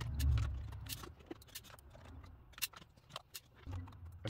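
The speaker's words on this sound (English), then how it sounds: "Let me whiz out all these screws" Screws are being removed from a small electronic device with a tiny Phillips screwdriver: faint scattered metallic clicks, ticks and small rattles, with a low rumble and some handling noise.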